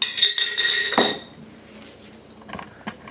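A clean glass jar handled in a kitchen while making sourdough starter, with a few close, bright clinks and knocks of glass at the start, then quiet handling noises and soft taps.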